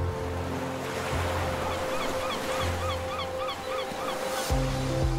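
Ocean waves wash steadily against a beach, a broad continuous surf roar with a low drone underneath and faint bird calls over it.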